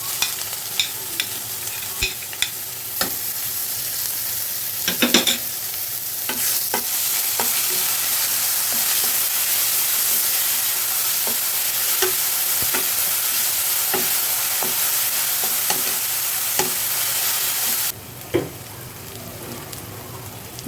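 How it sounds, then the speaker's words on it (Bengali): Onion paste, browned onions and green chillies fry in a pan with a loud, continuous sizzle, dotted with frequent scraping clicks of stirring throughout, easing slightly near the end. "আমার পেঁয়াজ মশলা ভাজি হয়ে গেছে"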